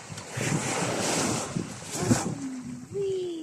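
Sea waves splash against rocks along a shore, a steady, close, loud wash with gusty wind noise over the microphone.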